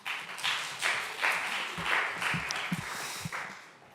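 A church congregation at a Sunday youth worship service claps in scattered, uneven bursts of moderate loudness for several seconds, fading toward the end.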